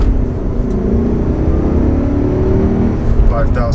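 A 2003 BMW 540i E39 engine pulls hard up to 5,000 RPM, a loud rising interior drone with a gear change near the end and the driver speaking over it.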